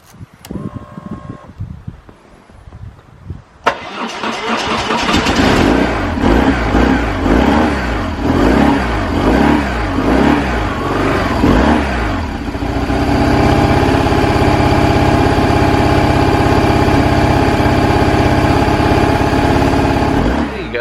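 BMW R1100 series motorcycle, ABS just reset, fired up: quiet fiddling at first, then the starter kicks and the boxer twin catches and revs unevenly with a pulsing beat, settling into a loud, steady idle close by.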